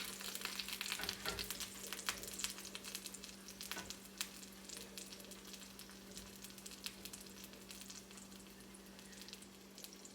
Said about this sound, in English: You might hear it sizzle a little bit.